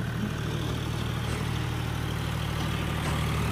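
A tractor engine hauling a trolley drones steadily and close, a continuous low idling rumble with no break across the short stretch.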